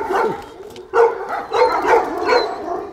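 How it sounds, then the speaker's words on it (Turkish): A large Anatolian Shepherd (Kangal) dog on a farm gives several deep, close barks and whining yelps in quick succession, fairly loud, with no speech over it. "Bu köpek çok büyük bir köpek."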